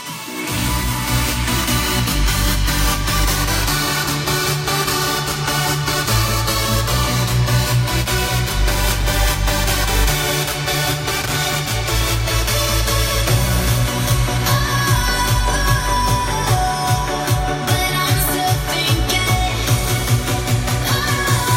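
A bright synth lead with a wide, shimmering chorus plays a melody over a thick, pulsing synth bass, loud and continuous throughout.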